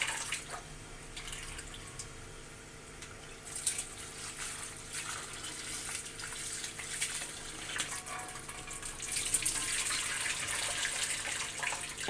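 Tamarind and dried plums are washed by hand in a vessel of water, with continuous sloshing, splashing and dripping close by, louder toward the end.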